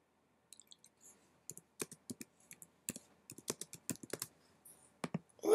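Keys on a computer keyboard clatter in irregular bursts of quick, close taps, sparse at first and then denser, with a louder thud at the very end.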